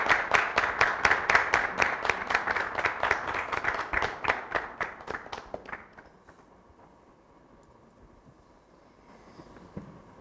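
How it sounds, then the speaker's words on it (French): Talk show studio audience applauding harder in rhythmic unison, brisk evenly spaced claps for about five seconds that taper and stop, leaving a quiet, hushed room. "On applaudit très fort."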